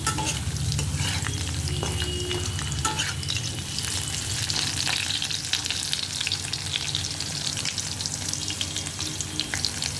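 Potato pieces fry with salt and turmeric in a pan, a dense, continuous sizzle up close, with a spatula stirring and scraping throughout for ten seconds and no voices.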